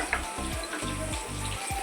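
Potatoes sizzle and crackle steadily in hot oil, with a few soft stirring scrapes mixed in and a low hum underneath.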